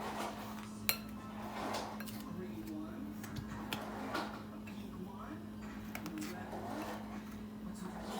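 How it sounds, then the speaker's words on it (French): Flour donut batter with powdered milk and baking powder is stirred in a bowl, giving sporadic utensil clinks and scraping against a steady background hum, while a voice murmurs faintly. "Voilà, je mélange. Je vais tout mélanger."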